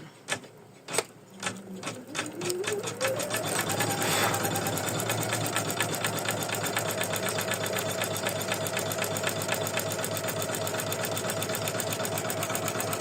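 An embroidery machine stitches a lace ornament, starting with a few separate thumps, then speeding up into a continuous rapid mechanical rattle with a rising whine that levels off into a steady hum, close and loud.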